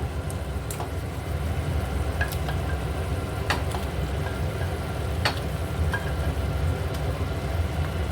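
Hot oil sizzles steadily in a pan for a prawn malai curry, a dense continuous frying hiss with a few sharp crackles and pops scattered throughout, no one speaking.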